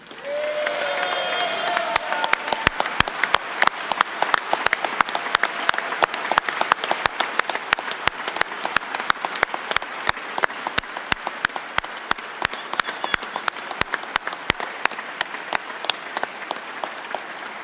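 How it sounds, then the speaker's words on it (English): An audience at the Missouri State of the State Address applauds the First Lady of Missouri, Claudia Kehoe, with dense, sustained clapping that is moderately loud and builds quickly before holding steady. "Still gets more applause than me."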